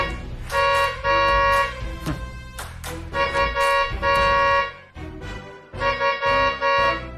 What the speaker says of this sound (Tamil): பெரிய மகாராணி ஹார்ன் அடிக்கிறாங்க.